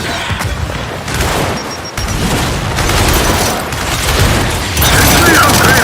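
Explosions and gunfire from a frag grenade going off in a video game, a dense continuous roar of booms and shots with game voices shouting over the din.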